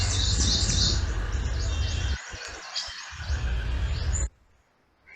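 Melodious bird song played back during a home birding session, bright warbling phrases sounding repeatedly and fairly loud for about four seconds before cutting off to near silence.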